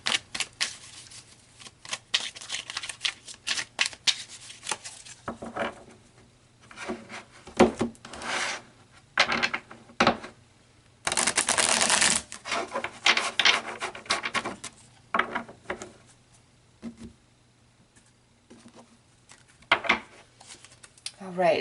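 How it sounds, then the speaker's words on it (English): Tarot cards being shuffled and handled for a Taurus love reading, producing soft rubbing and riffling bursts with a longer dense shuffle near the middle, heard close up between stretches of talk. "So let's pull some more cards"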